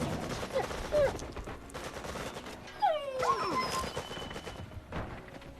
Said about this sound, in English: a lot of dogs actually. Only dogs almost.